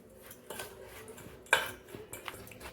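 A spoon stirring volcano cupcake batter with baking powder in a bowl, light clinks and scrapes against the side, one sharper knock partway through, close and alone.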